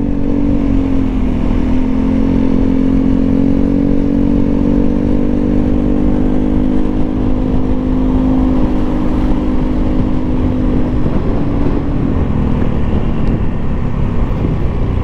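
A motorcycle fitted with a WRX GP3 racing-style exhaust, a Honda Vario 160 scooter, drones steadily at cruising speed during a ride. The engine hum is loud and continuous, with a slight pitch drop near the end and no talking.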